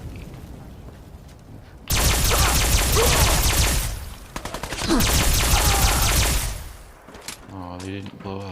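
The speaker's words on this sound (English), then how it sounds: "Who's shooting me?" Automatic gunfire in Fallout 3 with a modded alien assault rifle: two long, loud sustained bursts of rapid shots, separated by a short lull, with game sounds trailing off after.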